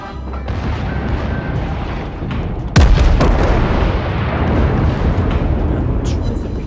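Battleship secondary guns firing in World of Warships, a series of deep booming blasts with one loud report near the middle, set against continuous engine and ocean rumble while someone talks over it.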